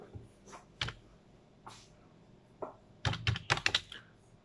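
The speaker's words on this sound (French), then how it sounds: "donc si je tape donc sur Google eau" Typing a Google search on a computer keyboard: quiet, scattered key clicks at first, then a quick, louder cluster of keystrokes near the end, all close and alone without talk.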